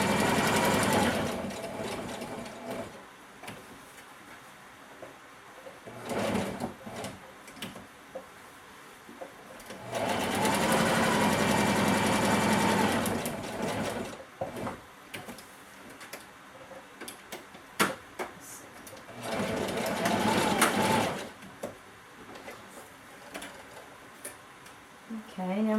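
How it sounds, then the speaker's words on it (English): A sewing machine stitches over a seam on a bodice in three long bursts of steady whirring, close and loud, with quiet pauses between them. "And actually sew it right over the seam."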